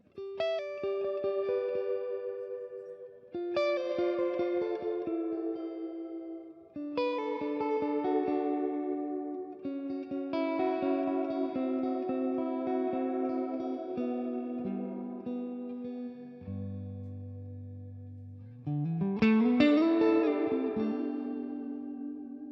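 A guitar played through a reverb pedal rings out in repeated phrases, each tone trailing into a lush wash as presets change, with a low swelling note and a bright bending phrase near the end, with no voices.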